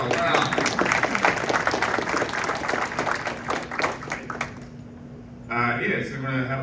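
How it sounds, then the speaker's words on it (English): Audience applause at a cannabis industry panel event in South Jersey, a round of clapping for several seconds that fades out before a speaker talks again. "I'd love to give it a round of applause."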